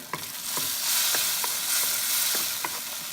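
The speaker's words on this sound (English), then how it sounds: "Give it a good stir." Pork binagoongan fries in a pan under a loud, steady sizzle, cut by a series of distinct stirring scrapes at roughly half-second intervals, no talking.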